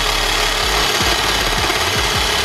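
A drying thuja tree is being cut with a saw: a loud, steady motorized buzz with rhythmic pulsing, close and continuous throughout, with no one speaking.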